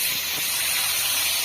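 Pangas fish heads sizzle in hot oil, a loud steady frying hiss that fills the clip without a break.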